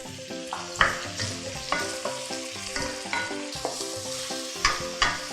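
Rice noodles for shrimp pad thai stir-fried in a pan with plain water: a soft, steady sizzle under repeated clattering spatula strokes, roughly one every second, near and without speech.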